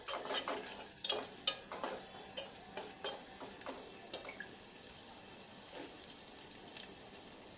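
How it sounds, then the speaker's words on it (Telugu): Green chillies and onion frying in a pan for an egg curry, a steady soft sizzle with scattered stirring scrapes and clicks, no voices. "పచ్చిమిరకాయ వేసాను. కొంచెం ఇది వేగాక"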